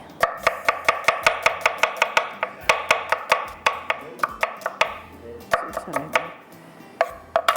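Rapid knife chopping of onions on a cutting board for a dahi kaleji dish: close, loud, steady rhythmic strikes in quick bursts with brief pauses, no talk.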